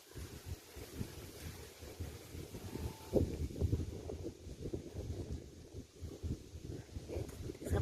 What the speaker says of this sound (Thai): เห็นไหมคะเพื่อนๆลมมาแล้วค่ะ